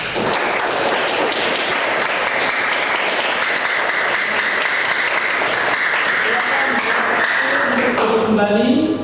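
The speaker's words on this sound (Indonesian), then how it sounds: "Kita berikan aplaus terlebih dahulu untuk kelompok 1." A classroom gives a presenting student group a loud, sustained round of applause, dense overlapping clapping that carries on steadily before tapering off as a voice begins speaking at the end.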